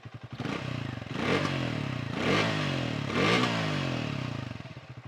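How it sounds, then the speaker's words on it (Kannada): A Triumph Speed T4 motorcycle's exhaust rises and falls in three distinct revving bursts, close and fairly loud, with a low thumping note under each swell. "ಸ್ವಲ್ಪ ಡಿಸ್ಟಿಂಕ್ಟಿವ್ ಆಗಿದೆ ಎಕ್ಸಾಸ್ಟ್ ನೋಟ್ ಸ್ಪೀಡ್ 400ಗೂ T4ಗೂ"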